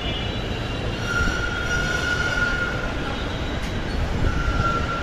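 A metro rail train passes at the Mirpur 11 station in Dhaka, a steady rolling rumble with a high squeal of wheels on the rails running through it, heard from a moderate distance.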